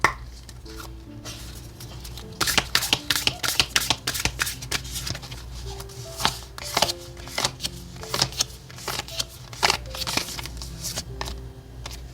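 Oracle cards shuffled by hand for a tarot reading, with a dense run of crisp riffling slaps and flutters in close, quick bursts over several seconds, a quieter stretch at the start and no talking.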